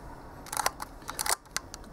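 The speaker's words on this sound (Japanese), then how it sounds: "低速シャッターに、シャッターの粘りとかですね、膜の遅れなどないのがお分かりいただけます" A 1955 Leica M3 double-stroke rangefinder camera fires its cloth shutter at a slow speed of about 1/5 second, several close, crisp mechanical clicks and winding snaps in quick succession, with no talking.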